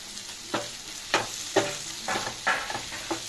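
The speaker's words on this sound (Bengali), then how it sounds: "মশলাটা আমার পুরো ফ্রাই হয়ে গেছে" Spice masala with a pinch of asafoetida for restaurant-style palak paneer fries in a pan, with repeated spatula strokes roughly every half second over a continuous sizzle, close and fairly loud.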